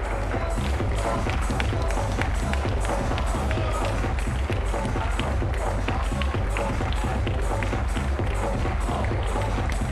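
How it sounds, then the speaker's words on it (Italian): Audience at a savate kickboxing match award ceremony applauding from around the ring, a steady dense patter of claps lasting throughout, with crowd noise and some talk underneath. "Un applauso, grazie."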